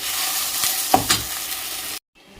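Onion, chilli and pepper sizzle in hot oil in a pan, a steady frying hiss with a few stirring clatters, cut off abruptly before the end.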